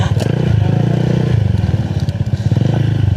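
Motorcycles ride a rough trail at a moto camp, with a steady low engine drone, bumpy clattering and a few scraping knocks running continuously throughout.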